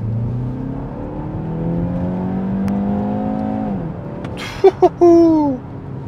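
A 2025 BMW X1 xDrive28i accelerates hard uphill, its engine note climbing steadily through several seconds and then a gear change, with brief speech near the end.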